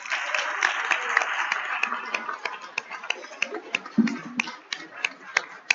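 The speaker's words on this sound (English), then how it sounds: "One more round of applause for the Major." Audience clapping at a town board meeting, a steady dense patter across the room with a few louder nearby claps standing out, fading slightly toward the end.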